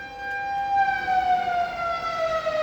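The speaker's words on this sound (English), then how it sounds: "That's the good old sound of Oklahoma. Tornado sirens." Tornado warning sirens in Oklahoma wail in the distance, a single sustained outdoor siren tone that slowly drifts lower in pitch and holds steady throughout.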